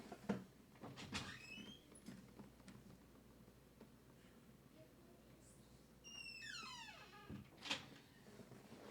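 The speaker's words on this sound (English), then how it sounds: "I think my cat just attacked the door" A cat attacking a door at home sets off a few sharp thuds and scrabbling knocks near the start and again near the end, with softer rattling in between and faint voices present.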